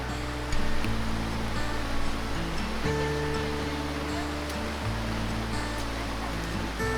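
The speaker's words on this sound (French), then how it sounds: "on remonte la rivière les pieds dans l'eau" Rushing river water surges and splashes around someone wading upstream toward a waterfall in Morocco's Atlas mountains, a loud continuous wash with low droning tones underneath.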